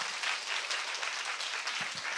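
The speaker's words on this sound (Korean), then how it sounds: "네 분의 패널 여러분께 큰 박수 부탁드립니다." Dense, steady applause from an audience honoring four debate panelists at the close of a carnivore-versus-keto forum, continuous and fairly even throughout with no one speaking over it.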